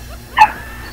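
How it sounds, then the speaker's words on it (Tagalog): A neighbour's dog lets out one short, sharp bark or yip at moderate distance, standing alone against a quiet background. "Maingay yung aso nyo."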